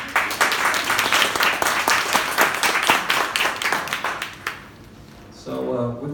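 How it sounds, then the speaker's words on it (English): An audience at a WeWork-hosted fintech meetup breaks into applause, dense clapping sustained for about four seconds before fading out, followed by a brief murmur. "Applause."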